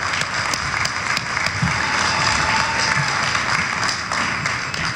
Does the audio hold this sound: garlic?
no